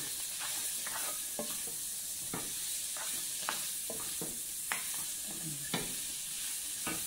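Leftover rice with onion being stirred in a frying pan, repeated spatula scrapes and taps over a constant frying hiss, close, with no voices.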